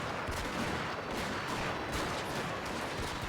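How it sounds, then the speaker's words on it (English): A dense, continuous crackle of rapid volley fire from a defensive tower in Shogun 2: Total War, steady and unbroken throughout, like massed musketry heard at a distance. "Look at how quickly this tower is able to shoot."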